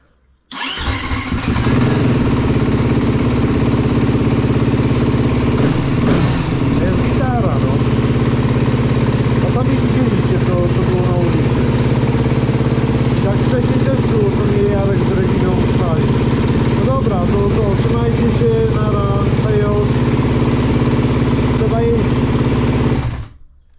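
A motorcycle broken down at the roadside cranks and fires up, then settles into a loud, steady idle nearby for about twenty seconds as a person talks over it.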